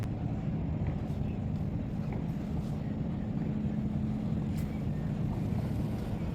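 A small boat glides along the Shitalakshya river in Bangladesh with a steady, muffled rumble of water and wind buffeting the microphone, constant and unbroken throughout with no voices.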